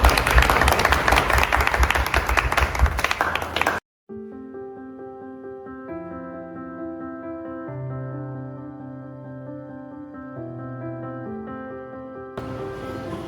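Congregation in a church bursts into loud, dense applause with cheering for a deacon, lasting a few seconds before cutting off into sustained organ-like music, then clapping returns briefly at the end.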